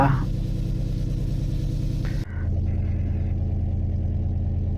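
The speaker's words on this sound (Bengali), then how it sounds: "নৌকা যাচ্ছে" A boat's engine rumbles steadily and close on the sea at night, its droning tone shifting abruptly partway through and then continuing as a lower steady hum.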